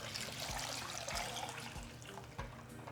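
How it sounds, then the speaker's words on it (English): Water poured into a saucepan over salted potatoes, a steady soft trickle and splash with faint periodic low thumps, quiet and close, no talk. "Now just cover them with water."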